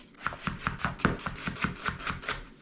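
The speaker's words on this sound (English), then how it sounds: "All right, let's cut our onion." A knife chops through an onion on a cutting board with about twelve evenly spaced, close, crisp thuds at a steady brisk rhythm, with no talking.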